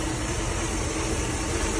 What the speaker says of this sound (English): Engine seems to be running good